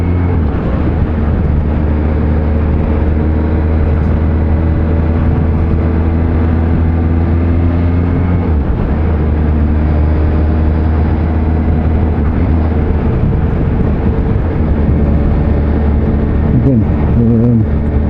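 A 2020 Kawasaki Z H2 supercharged motorcycle cruising smoothly at 30 mph in sixth gear, with a steady low engine drone and heavy wind rush running unbroken throughout.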